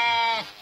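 A goat gives one short, loud, close bleat during hoof trimming. The cry is nasal and wavering and falls away at the end.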